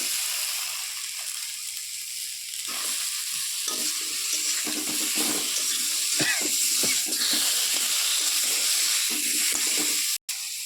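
Chopped tomatoes go into a pan of spice masala already fried down with a little water, giving a steady close sizzle with stirring and scraping sounds, fairly loud and continuous, with no speech.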